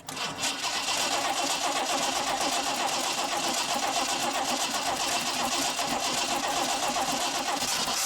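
A vehicle engine is jump-started with a NOCO GB70 booster pack. It catches almost at once and then runs loud and steady close by, with no talking.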